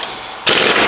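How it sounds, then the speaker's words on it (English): An impact wrench hammers at a worn Ferrari wheel bearing nut, a sudden loud rattling burst that starts midway through a brief moment and lasts about a third of a second. "I put on the impact wrench and I was able to kind of plow through it."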